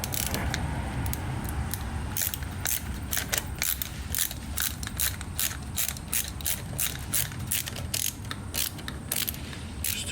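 A ratchet wrench clicks in steady repeated bursts while bolts are snugged down on a Yamaha Virago carburetor during a Dynojet rebuild, the close sharp ticks sitting over a constant low background hum.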